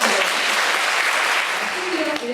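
Audience applause at a live NFT salon event featuring a Stradivarius violin, a dense, loud burst of clapping that stays steady, then thins slightly near the end, with no talk over it.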